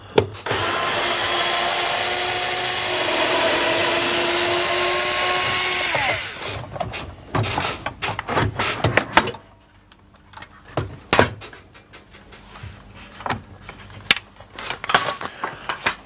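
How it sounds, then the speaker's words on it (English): A power tool drones loudly and steadily for about six seconds while the outer door panel of a Bosch tumble dryer is being removed, followed by irregular clunks, clicks and plastic-and-metal knocks as the panel is worked loose. "I'm going to start by removing this outer door panel."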